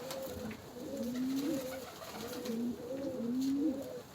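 Pigeons coo in a repeated soft, rolling pattern, several low burbling calls close by over faint background noise, with no voices.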